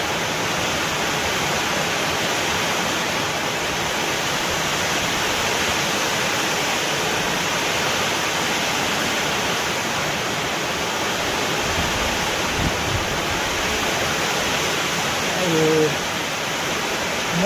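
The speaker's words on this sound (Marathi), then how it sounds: "वारा कावधानातच पाऊस चालू झाला" A steady, dense roar of heavy rain driven by wind, unbroken from start to finish, with a brief muffled bump near the end.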